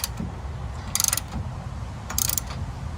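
Mechanical ratcheting clicks from a bolt being tightened on a pivot of an e-bike truck rack, two short bright bursts of rapid clicking over a low background rumble, fairly close.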